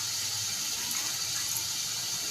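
Roughly one and a half glasses of water pour into a pot while chicken shami kabab is prepared, giving a steady, even gush of running water that stays constant and fairly close throughout, with no talking.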